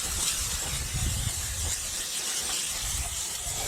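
A spray paint can hisses steadily and close while coating a 1969 Plymouth Fury. The hiss is soft but continuous, with some low rumbling background underneath.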